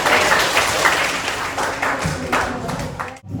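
A classroom full of students clapping steadily and densely, a sustained burst of applause that cuts off abruptly near the end.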